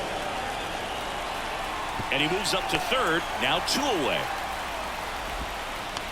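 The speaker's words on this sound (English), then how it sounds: "This rain is not letting up." Rain falls steadily on a baseball stadium in the MLB The Show 24 video game, a continuous broadband hiss running throughout while a commentator talks over it.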